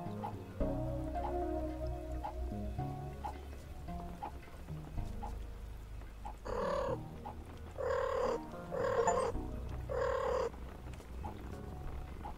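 A cat purrs softly in a video game, a low, quiet rumbling texture at the start, followed by several separate tonal chirps or calls.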